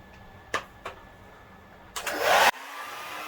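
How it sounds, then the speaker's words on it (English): A hand-held hair dryer blowing hair bursts on for about half a second with a loud, rushing whoosh and then cuts off, after a couple of brief knocks; no talking. "Alright, getting into the actual blow drying now."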